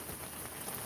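Rain falls outside in a steady, even hiss of dense drops, faint and distant, with no voices over it.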